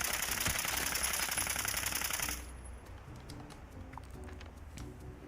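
Rapid-fire suppressed gun in the Fallout 76 video game, a quick typewriter-like clatter of shots that runs steadily then cuts off about halfway, leaving quieter game ambience with scattered clicks.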